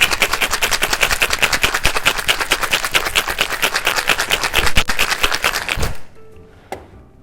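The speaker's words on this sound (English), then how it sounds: "We need to give it a really good shake because I want to really activate the espresso" Cocktail shaker packed with ice and espresso for an espresso martini, shaken hard and fast in a steady, loud rattling rhythm for about six seconds, then stopping abruptly, followed by a single faint clink.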